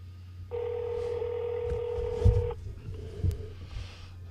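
A telephone number is keyed in as a steady run of dial tones lasting about two seconds, then a shorter second tone, with low rumbling thumps underneath and no talk.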